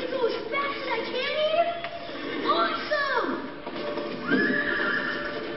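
A horse in the Disney Infinity video game whinnies loudly several times, with hoof clip-clop and children talking over it.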